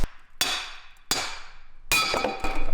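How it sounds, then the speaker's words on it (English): A hammer taps a car differential on a G35 drift sedan with a welded diff, giving three or four sharp, ringing metallic hits spaced about a second apart, close and clear, with no talk. "Let's give her a little love tap with the hammer."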